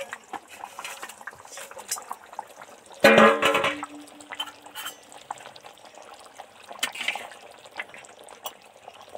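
Fish added to a simmering mustard paste curry in a pan, giving one loud, brief splash and sizzle midway, with faint kitchen clatter before and after.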